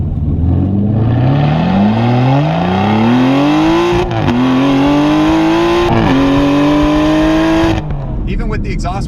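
An Aston Martin V12 Vantage S, exhaust wired open, is revved hard from inside the cabin. The engine note climbs smoothly through the gears with brief dips at each shift, then drops away near the end.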